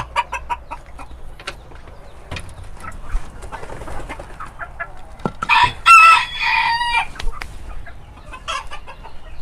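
Rooster crowing loudly in a backyard poultry coop alongside hens, with scattered clucks and bird calls before a prominent crow near the middle.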